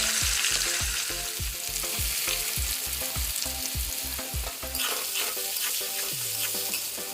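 Onions frying in hot oil with cinnamon, cardamom and cloves for chicken egg biryani, a loud close sizzle with rhythmic stirring scrapes, then the stirring stops and the sizzle continues alone.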